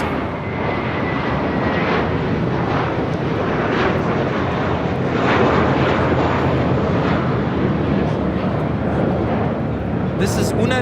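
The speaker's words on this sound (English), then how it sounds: "This is Una Nueva Mentalidad taking off to Fort Lauderdale, JetBlue Airways 1700 on an A321" JetBlue Airways A321 taking off, a loud, steady broadband jet roar sustained throughout with a faint rising engine whine, while people talk underneath.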